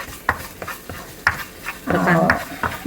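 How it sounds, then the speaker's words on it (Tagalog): Pork chop sautéing in a pan, with soft scraping stir sounds at first, then a louder burst of sizzling near the end; no one talks. "This is where we saute the pork chop."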